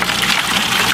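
Water rushes strongly out of the solids filter of an aquaponics system, making a loud, close, steady gushing flow that lasts the whole moment with nothing else heard.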